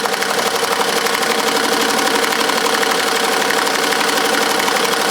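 An embroidery machine stitching a tack-down line on a glitter flake patch, a loud, dense, steady rapid mechanical chatter that continues evenly throughout.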